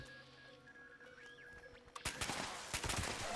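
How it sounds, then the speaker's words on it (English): Furious Explosive Handmade rifle in Fallout 76, fired from the hip: after a quiet moment with faint electronic tones, a loud rapid burst of several sharp explosive shots rings out, close and with no talk. "And now we'll do a little bit of hip firing."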